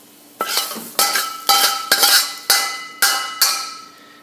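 Fried rice is scraped and scooped from a wok into a bowl: a series of about seven sharp metallic scrapes and clinks of a utensil against the pan, spaced roughly half a second apart, close and fairly loud, with no talking.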